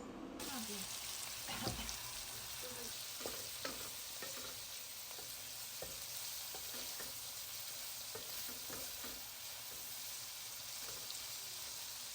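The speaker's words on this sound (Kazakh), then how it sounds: "Пияз жұмсарған соң оған сәбіз бен болгар бұрышын салып, тағы да араластырамыз" Meat with onion, carrot and bell pepper frying in a pan for homemade lagman, a steady close sizzle broken by scattered scraping clicks of a utensil stirring, with no talk throughout.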